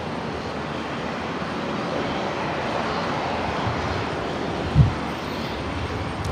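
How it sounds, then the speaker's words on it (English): A Jetstar Airbus A321neo taxis at Brisbane Airport, a steady broad engine rumble and whoosh heard from a distance, continuous and even, with one brief low thump near the end. "One of the beautiful Jetstar 321 Neos taxiing on out."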